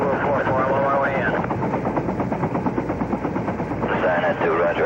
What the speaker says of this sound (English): the crews of the Huey UH-1B helicopters, nicknamed Seawolf